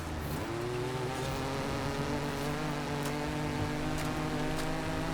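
A car engine held at full throttle during a Forza Horizon 5 cross-country seasonal championship race, a loud steady drone that climbs in pitch early on, then holds a sustained high-revving tone alone.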